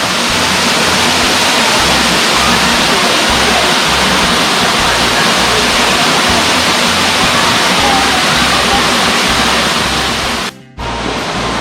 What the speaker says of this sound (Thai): น้ำตกแสงจันทร์นะครับ กำลังลงรูเลยนะครับ